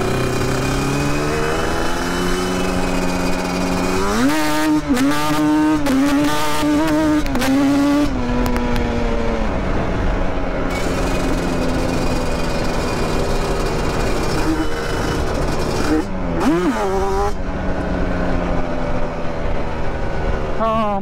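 Loud, steady engine drone of a Yamaha Banshee ATV being ridden, with rising rev sweeps and gear changes throughout; a rider talks excitedly over the engine.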